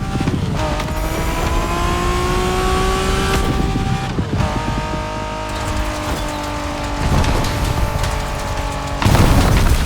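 A car in The Crew Motorfest revs and accelerates hard, engine pitch climbing and dropping through gear shifts, loud and close, with a booming surge near the end and no speech.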